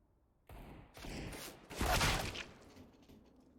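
Gunfire bursts in Counter-Strike: Global Offensive during a competitive Nordavind versus LDLC match, a short clatter of shots rising and peaking near the middle, then trailing off into background game noise.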